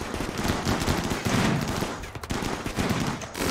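Dense, continuous gunfire from a Rimworld battle rattles throughout, loud overlapping bursts of shots with no pauses.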